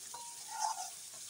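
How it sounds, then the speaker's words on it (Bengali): Spice masala being stirred and fried in a pan for a fish-head curry: a faint, steady sizzling hiss with a soft scrape of stirring rising briefly in the middle. "এখন সুন্দর করে কষিয়ে নেব মশলাটা।"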